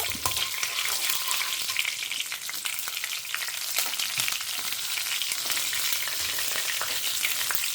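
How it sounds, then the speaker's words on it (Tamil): Mustard seeds and green chilli spluttering in hot oil, a loud, dense, continuous crackling sizzle with rapid fine pops, close and unbroken, no speech. "ஸோ கடுகு போட்டுக்கிறேன். கடுகு பொரிய ஆரம்பிச்சிடுத்து."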